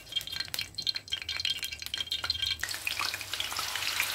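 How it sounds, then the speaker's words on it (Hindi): Chicken in hot oil in a pan, a close crackling fry with bright spattering pops that grows denser and louder toward the end. "एक पैन में ऑयल डाल को चिकन उठा के उसमें डाल डाल को"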